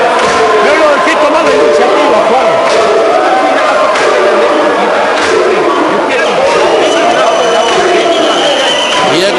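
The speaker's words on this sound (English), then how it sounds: "The crowd on its feet here, singing, jumping for joy." Boxing arena crowd on its feet during a bout, a loud, dense roar of cheering, chanting and singing that holds steady throughout, with scattered shouts rising above the wash of voices.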